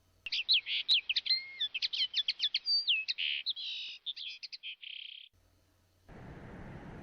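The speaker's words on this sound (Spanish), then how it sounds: "En realidad era un pardillo que cantaba ante su ventana." A linnet sings a rapid, varied string of bright chirps and trills for several seconds, clear and close, followed by a brief rush of noise.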